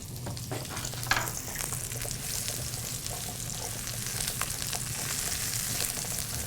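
Sliced, pre-cleaned mushrooms sizzle and fry steadily in a hot pan, a continuous close crackle with a few brief stirring scrapes and no talking.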